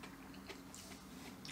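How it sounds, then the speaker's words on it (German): Funny Frisch chickpea chips crunch close-up as they are bitten and chewed, a few soft, crisp crackles over a quiet background. "Das Knuspern und der Crunch ist ein bisschen anders als bei den Linsenchips."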